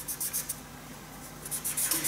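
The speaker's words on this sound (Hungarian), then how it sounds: "akkor lehet vele szépen rajzolni is további hullámokat vagy felhőfoszlányokat" A paper stump loaded with charcoal dust rubs and strokes across drawing paper in short scratchy bursts, close and dry, with no talk.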